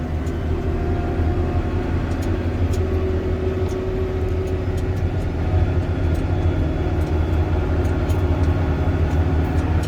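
A farm tractor engine drones steadily while heading down a hill during a long move, a loud constant low rumble with faint high ticks over it and no talk.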